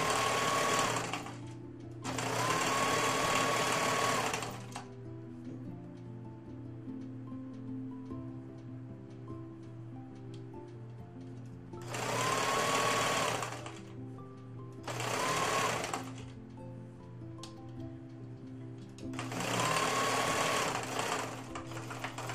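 A sewing machine stitches binding onto a drain bag apron in three bursts of fast, even, rattling stitching with quiet pauses between, close and fairly soft.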